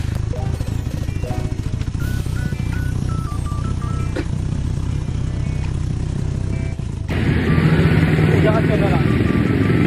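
A Suzuki Raider Carbon 150 motorcycle engine idling up close with a steady low rumble, then revving louder near the end, while someone talks over it.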